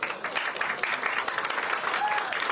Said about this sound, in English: The uproarious applause.